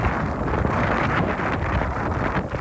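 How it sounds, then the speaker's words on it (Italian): Strong wind with rain buffets the microphone on the Camino de Santiago between Sarria and Portomarín in a constant, heavy roar with gusty surges, loud and close, and no voices. "Forte vento e pioggia."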